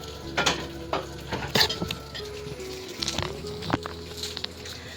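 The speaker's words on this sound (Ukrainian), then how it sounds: "сьогодні у нас смажені сироїшки" Russula mushrooms sizzle steadily in a frying pan while a utensil stirs and scrapes against it in irregular clinks.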